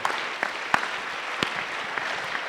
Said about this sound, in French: Applaudissons pour le roi des rois